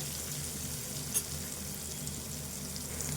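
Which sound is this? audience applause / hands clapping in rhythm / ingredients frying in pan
ingredients frying in pan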